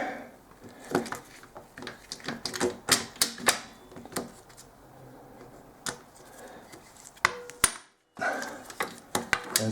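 Tools clatter against the metal of a 160cc Chinese pit bike engine as screws are worked loose, giving a run of sharp, close ticks and knocks with short pauses between them.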